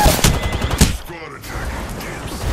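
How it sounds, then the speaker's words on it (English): Gunfire in the battle royale game Apex Legends: a quick cluster of loud shots at the start, then quieter game ambience with a faint voice underneath. "They're shooting at me!"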